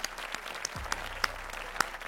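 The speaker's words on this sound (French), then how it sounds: "on peut venir s'applaudir" A small group at the end of a family boxing training session clapping, with scattered sharp individual claps standing out over a quiet room rather than a dense ovation.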